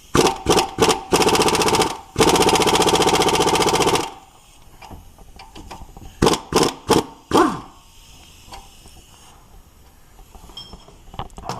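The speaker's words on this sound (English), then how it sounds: "I'm going to take off the power steering belt tensioner bolt." A power tool works the power steering belt tensioner bolt on a Toyota/Lexus V6 engine: rapid loud hammering bursts, then a steady two-second rattling run that stops abruptly, followed by scattered metallic clinks and knocks.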